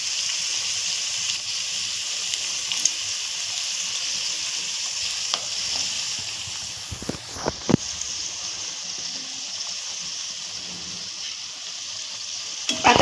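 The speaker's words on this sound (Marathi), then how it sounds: "आता चांगलं हलवून घ्यायचे." Food is stirred in a hot cooking pan, giving a constant close hiss of frying with a few brief scraping clanks around the middle; no one speaks.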